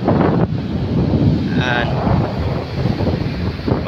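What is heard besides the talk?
strong wind at sea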